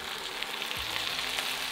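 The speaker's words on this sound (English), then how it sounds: "Stir everything together" Tomato paste, pepper, chilli flakes and oregano are stirred in a hot pan, giving a soft continuous sizzle with a light scrape of the spoon partway through.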